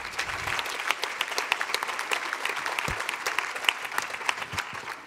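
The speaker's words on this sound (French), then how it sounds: "on peut les applaudir, effectivement" Audience applause in a congress hall during a caregiver respite awards ceremony, a fairly sparse patter of individual claps at moderate distance, steady for several seconds with a few sharper, louder claps standing out.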